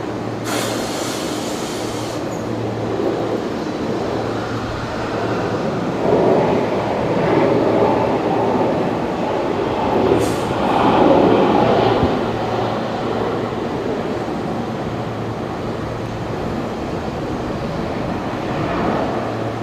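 A Jetstar airliner arriving from Auckland at Brisbane Airport, a low continuous rumble of engines at a moderate distance that swells slightly midway and holds steady.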